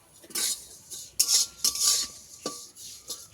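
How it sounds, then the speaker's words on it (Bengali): A utensil stirs and scrapes vermicelli (semai) frying in a pan, making repeated close metallic scraping strokes in an uneven rhythm, with a light sizzle underneath. "সিমাইটা যতক্ষণে না লাল হয় আমি ভাজতে থাকবো।"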